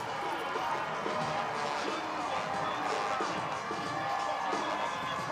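High school football crowd at a Friday night game, a steady wash of distant cheering and stadium hubbub with no clear individual voices, continuous and even in level.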